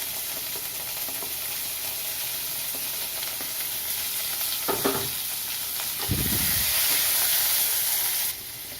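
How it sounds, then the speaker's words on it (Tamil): Four chopped onions sautéing in a pan for cabbage biryani give a loud, steady frying sizzle, with a couple of stirring scrapes and a sharper hiss burst near the end. "நான் ஒரு நாலு வெங்காயத்துக்கிட்ட கட் பண்ணி வச்சுருக்கேன் இதை சேர்த்து ஒரு ஒரு நிமிஷத்துக்கு வந்து நல்லா வதக்கிக்கலாம்"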